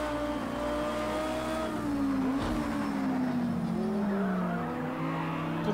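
A race car in the Project CARS 2 video game runs a formation lap on cold tyres, its engine droning and shifting pitch with some tyre squeal and skidding noise, steady and fairly loud throughout.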